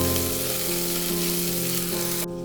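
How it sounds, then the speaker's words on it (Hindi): Potatoes and onions sizzle steadily in a one-pot vegetable tahari, a dense close frying hiss with a low hum beneath, continuing evenly before cutting off abruptly near the end. "जब तक आलू प्याज फ्राई हो रहे हैं"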